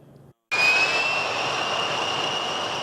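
A jet airplane takes off at Boca Raton Airport, a loud, steady engine roar with a high whine that starts abruptly after a brief silence and holds close and strong.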